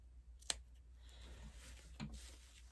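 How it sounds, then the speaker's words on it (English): Scissors snip into fabric at the pivot point of a curved seam on a handmade soup bowl cozy, two quiet, crisp cuts about a second and a half apart against near silence. "when you get to the pivot point, I'm going to snip down so it turns easy"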